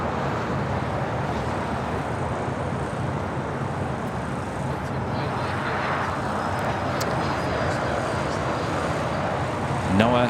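A Boeing 787-9 Dreamliner arriving at LAX on runway 24 Right, heard as a steady broadband jet roar that holds at a constant level and swells slightly near the end.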